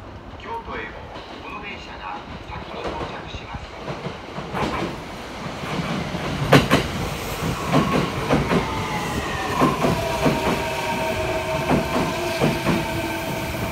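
A Kintetsu Line semi-express train rolls into a station in Kyoto with rhythmic clickety-clack and loud rumbling, then long high brake squeals as it slows, close by.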